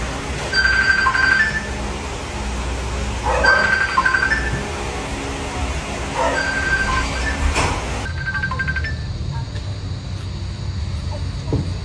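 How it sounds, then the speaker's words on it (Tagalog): A telephone rings at home, four evenly spaced trilling rings over a low background hum before the ringing cuts off. "O, Gemma, ikaw pala, napatawag ka?"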